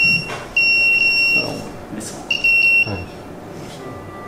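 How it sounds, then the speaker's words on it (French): A smoke detector gives two shrill, piercing beep bursts, each lasting a moment, with a person speaking briefly in between. "c'est le détecteur de fumée qui sonne"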